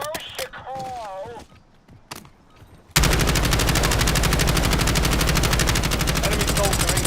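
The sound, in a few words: gunfire in Black Ops 6 Warzone video game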